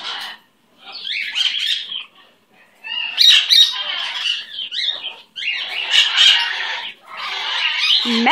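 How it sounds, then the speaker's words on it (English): A pet bird squawks and chirps in repeated loud, harsh bursts close by, with short pauses between calls. "That's my baby bird."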